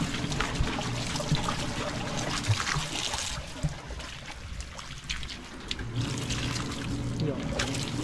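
Hot water trickles and pours steadily under and between a person's talking, a soft continuous liquid splashing close by.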